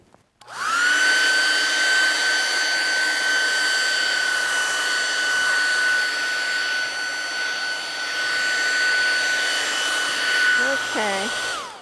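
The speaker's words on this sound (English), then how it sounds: "I'm going to dry it." A hair dryer drying a watercolor painting whines steadily and loudly for several seconds with a constant high-pitched hum, then clicks off near the end.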